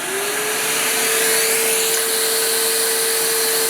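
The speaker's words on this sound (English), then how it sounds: "Here's the Stealth Sonic DeWalt shop vac by itself." A DeWalt Stealth Sonic shop vac runs alone at close range, giving a steady, loud whooshing roar with a constant motor whine that holds at an even level throughout.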